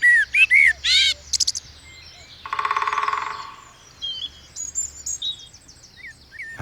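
Nightingales sing in short bursts of bright, clear chirps and whistles, then a fast buzzing trill, followed by scattered sharp notes, close and loud against a quiet background with no talking.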